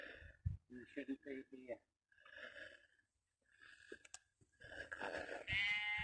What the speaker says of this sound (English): this sheep that keeps making this weird noise